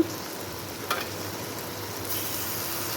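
Garlic frying in a pan gives a steady, close sizzle with a few brief stirring scrapes, heard alone without any talk.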